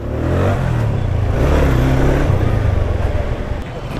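A BMW motorcycle engine revs loudly and close, a steady throaty rumble that swells and eases slightly over a few seconds, heard outdoors on a test ride.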